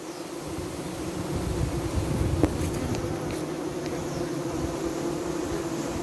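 Honey bees buzz around their hive on a sunny day, a dense, continuous hum of many insects close by, steady throughout with no voices.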